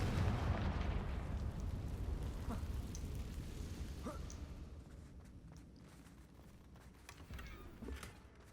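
A Confringo blasting spell explodes in the game Hogwarts Legacy, a loud, deep rumbling blast that fades slowly over several seconds, followed by faint scattered crackles and footsteps.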